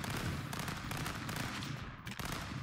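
Continuous rapid gunfire from a weapon in Stick Fight: The Game, a busy, rattling barrage at moderate volume with a brief dip near the end.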